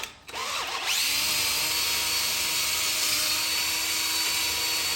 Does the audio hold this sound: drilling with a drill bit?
yes